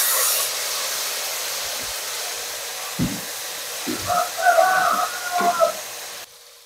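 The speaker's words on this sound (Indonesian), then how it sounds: "Kita tumis." Ground chili paste sautés in a pan with a steady, close hiss of frying, joined midway by a few soft knocks and scrapes from stirring.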